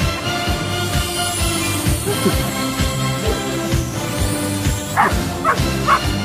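A puppy barks over and over in quick, yippy bursts during a game of fetch, loud and close, with whimpering yips mixed into a busy, rhythmic background.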